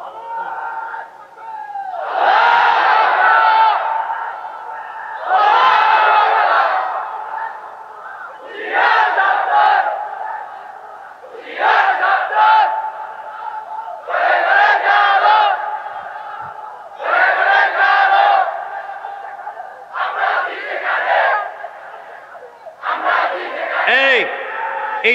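A large crowd at an Islamic sermon shouting the takbir chant in unison, eight loud rhythmic call-and-response bursts separated by short pauses.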